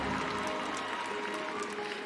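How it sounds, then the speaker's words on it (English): A steady, continuous round of applause from a large audience at the Miss South Africa 2024 pageant show, even and sustained from start to finish. "That deserves a round of applause."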